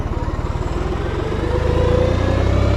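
A New Holland T580B four-wheel-drive tractor pulls up a ramp in second gear, its engine chugging in loud, rhythmic pulses close by while a faint whining tone rises partway through.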